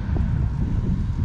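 Low, steady crosswind rumble buffeting the microphone while cycling, constant and close for a brief moment, no voices.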